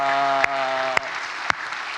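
A church congregation gathered for an autumn special late-night prayer service claps in thanks, brief applause heard under a lingering sustained musical tone with a few sharp claps standing out.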